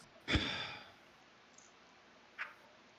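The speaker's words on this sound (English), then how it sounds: "Or just breathing." A single sharp breath blown straight into a microphone, loud and close, fading over half a second, then quiet hiss and a faint second puff near the end.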